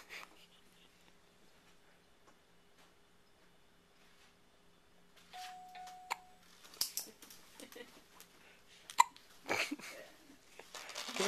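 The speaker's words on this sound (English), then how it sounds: "Give us one of those yawn to hiccups." A person hiccups a few times, sharp short gulps scattered through the second half after a quiet start, with breathing, rustling and nearby voices.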